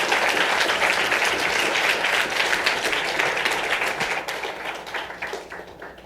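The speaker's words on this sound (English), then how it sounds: "Another round of applause." An audience closes a session with a steady wash of applause, dense and close at first, then gradually thinning and fading toward the end.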